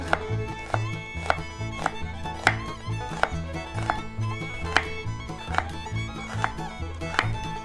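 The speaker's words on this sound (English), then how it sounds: "we're going to take our onion, we're going to half it, and then we're going to cut it into slices" A knife slices halved onions on a cutting board for a cucumber salad, making a regular series of crisp chops, close and fairly quiet, with a low background hum.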